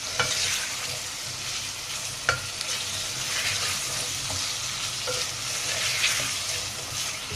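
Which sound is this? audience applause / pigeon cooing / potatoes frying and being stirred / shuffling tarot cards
potatoes frying and being stirred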